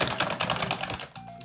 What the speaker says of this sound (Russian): Надеюсь, мою клаву не так-то громко слышно, потому что я знаю, как это противно, когда кто-то стучит по клаве.